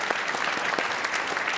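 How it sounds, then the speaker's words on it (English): A brief burst of steady audience clapping at a public talk in Maastricht, close and even throughout, welcoming a panel guest. "Can we have a big round of applause for Yves Rekkers?"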